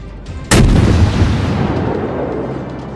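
A ship's aft cannon fires in World of Warships, one sudden loud boom with a rumbling tail that slowly fades over a couple of seconds amid steady battle noise, with no voices.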